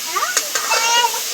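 A spoon stirs vegetables and spices cooking in a hot pan, making a few quick scraping strokes over a light, continuous sizzle, close and fairly loud.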